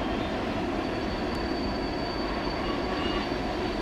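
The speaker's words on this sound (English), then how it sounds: "The train comes on a curve, goes across the trestle." A BNSF and Montana Rail Link freight train rounds a curve toward a trestle in Montana, a steady, loud broadband rumble of rolling cars and wheels filling the scene without letup.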